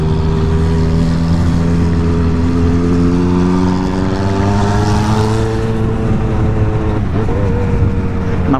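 A Honda Hornet motorcycle engine drones loud and close, its steady harmonic hum rising slowly in pitch as it accelerates, with a brief shift near the end, heard from a moving vehicle in Brazil.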